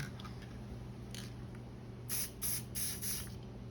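A spray paint can hisses out four short bursts of blue paint in a row, close and even, after a faint earlier puff over a low room hum.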